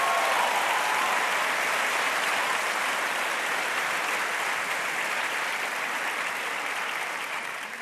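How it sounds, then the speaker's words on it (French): An audience applauds at an award ceremony, steady dense clapping from a large crowd that holds for several seconds and tapers slightly at the end. "Bravo, mesdames, messieurs, on peut l'applaudir."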